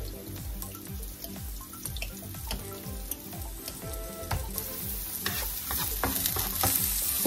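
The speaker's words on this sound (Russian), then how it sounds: "И обжариваем лук до румяности." Chopped onion frying in a skillet while being stirred, a constant sizzle broken by repeated scraping strokes of a utensil against the pan, close and moderately loud, with no talking.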